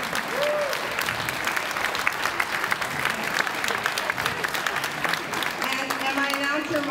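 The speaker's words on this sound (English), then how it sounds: "So I want to give my board and my volunteers applause." Crowd applause at a comedy show, steady clapping with crowd murmur and occasional voices mixed in throughout.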